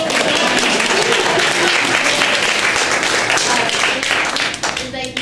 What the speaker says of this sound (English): Can we have a round of applause for Commissioner Weaver too?